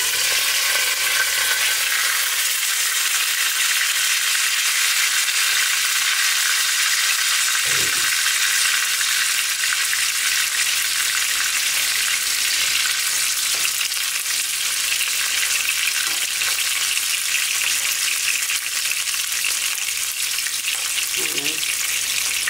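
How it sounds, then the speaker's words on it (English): Mini seekh kababs sizzle and fry in a covered pan, a steady, close, hissing crackle that holds for the whole stretch, with a faint voice and occasional small knocks. "Covered it up to cook it thoroughly for a few minutes more."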